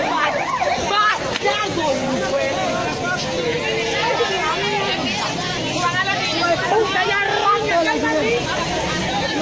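An ambulance siren wails with rising and falling tones over excited shouting and crowd chatter close by at a traffic accident between a school minibus and a taxi.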